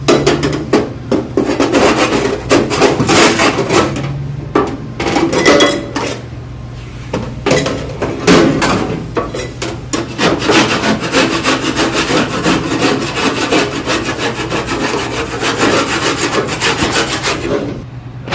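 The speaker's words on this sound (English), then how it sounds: "You take your green scrub pad, just moisten, scrub that off, and just keep going with that until that's clean" A green scrub pad rasps back and forth against a metal Duke broiler part, giving loud, repeated abrasive strokes in an uneven rhythm with a few metallic clanks and short pauses.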